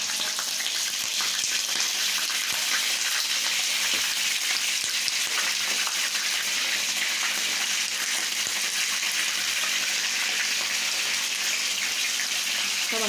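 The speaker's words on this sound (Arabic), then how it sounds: "هاخد قطع الفراخ هحطها على الجلد عشان تتحمر اهي" Chicken pieces that were washed with water, lemon and salt sit skin-side down in hot fat in a pan, sizzling in a dense, even crackle that runs unbroken and close for over ten seconds, with no talking.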